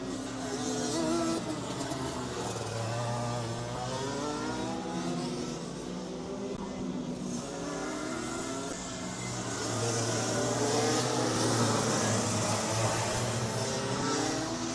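Racing karts at a kart championship circuit whine past on the track, a faster kart closing on a slower one; several engines rise and fade continuously, buzzing and revving at mid distance without a break.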